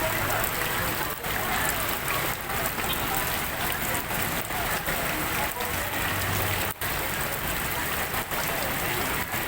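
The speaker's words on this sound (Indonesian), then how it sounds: "Dan sekarang juga masih turun hujan" Heavy rain pours down during a flood in Medan, Indonesia, a dense, loud, even hiss of falling water that continues unbroken, with faint traces of voices beneath.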